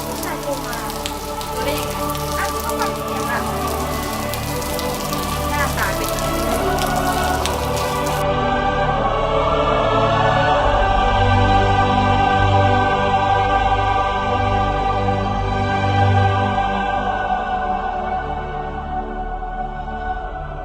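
Heavy rain falls steadily on surfaces, a dense continuous hiss with scattered drop impacts, loud and close for the whole stretch, with no talking.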